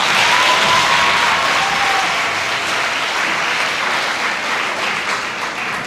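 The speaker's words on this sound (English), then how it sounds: "let's give our parents a round of applause." Loud, dense applause from a large audience at a Black History program, sustained throughout and easing off slightly toward the end.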